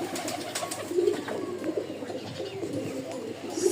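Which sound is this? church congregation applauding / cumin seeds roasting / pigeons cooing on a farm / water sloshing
pigeons cooing on a farm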